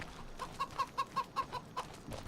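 Chickens in Farming Simulator 25 cluck in a quick run of about eight evenly spaced, fairly faint clucks, with no talking.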